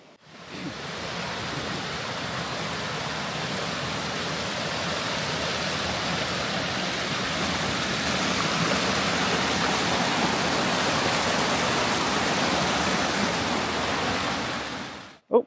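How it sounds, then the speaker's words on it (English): Grotto Falls, a waterfall in a national park where the trail passes right behind the falling water, roars as a steady broadband rush of water that stays loud and unbroken throughout, with no talking. "the trail takes you right behind the waterfalls itself"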